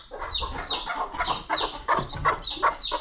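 A flock of chickens cluck and squawk busily while being fed, a dense overlapping chorus of close, steady calls with no talking.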